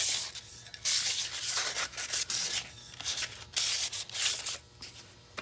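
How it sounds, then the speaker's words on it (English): Soft, light scratchy sanding strokes on a cup between finish coats, in short back-and-forth bursts, close and quiet, with brief pauses between passes. "Clean them off, light sanding."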